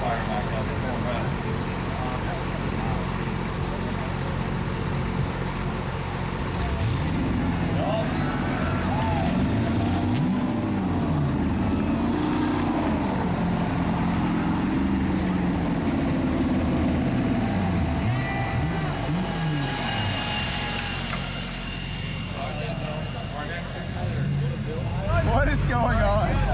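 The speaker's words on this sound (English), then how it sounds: "Watch burnouts all night long and then come to the parking lot and do more burnouts." A car does burnouts in a parking lot after a racing event, a loud, sustained engine roar with revs swooping up and down and a background of crowd noise, with people talking over it.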